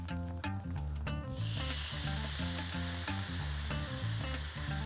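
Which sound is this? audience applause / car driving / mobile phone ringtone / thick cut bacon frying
thick cut bacon frying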